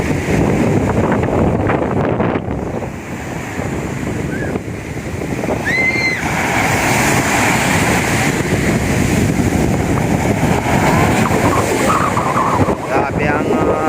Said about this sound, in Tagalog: Grabe ang balod, kusog.